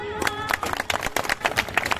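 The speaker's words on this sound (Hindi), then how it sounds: "जोरदार ताली।" Audience at a Bhagat Singh Shahidi Diwas event clapping, a dense, irregular patter of many hands at moderate loudness over about two seconds, with a faint voice behind it.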